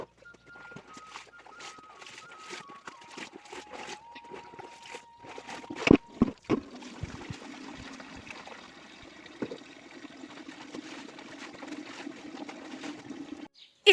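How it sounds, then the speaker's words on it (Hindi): Clothes being washed by hand in a tub of water, with irregular sloshing, splashing and dripping that grows denser and steadier in the second half, plus a few sharp knocks; close and moderately loud. "तो मैं धो लेती हूँ पहले कपड़े।"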